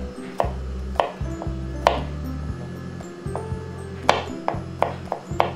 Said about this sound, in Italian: lo vado a tritare con il coltello.